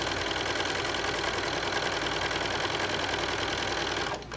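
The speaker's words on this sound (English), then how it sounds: "we're going to sew all the way across" A sewing machine runs steadily while stitching straight across a quilt seam, a continuous close mechanical whir that holds evenly before stopping abruptly at the end.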